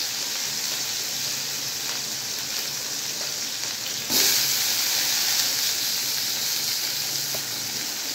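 Finely chopped onions sizzle in hot oil with mustard seeds and cumin while a kuzhambu is cooked; a steady, bright frying hiss runs throughout and gets noticeably louder about halfway through.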